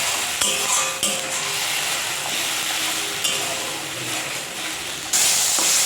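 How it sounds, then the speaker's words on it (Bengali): Onion paste fries in a pan with a steady, loud sizzle while a utensil stirs it, adding occasional scrapes and knocks, and the hiss grows brighter near the end. "এই যে পেঁয়াজ বাটাটা, এটা পুরোটাই দিয়ে দেবো। দিয়ে কিন্তু ভালো করে নাড়াবো।"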